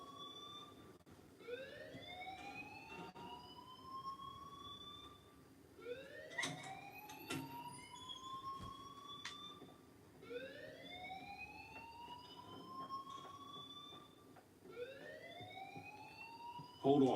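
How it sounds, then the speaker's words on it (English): An alarm in the video game Life is Strange wails in repeated rising sweeps, about four cycles spaced a few seconds apart, at moderate volume. "please turn off that alarm since that's your job"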